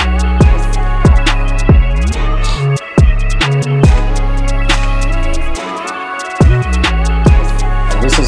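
A drill beat built in FL Studio plays loudly, with punchy kicks, sliding 808 bass, skittering hi-hats and brief dropouts in a choppy rhythm, with no talking.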